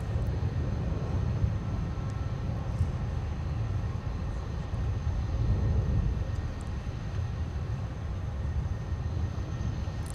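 A Delta airliner, flight 2462 arriving from Destin–Fort Walton Beach, Florida, rumbles steadily at Minneapolis–St. Paul airport, a continuous low engine roar without voices that holds fairly even for the whole stretch.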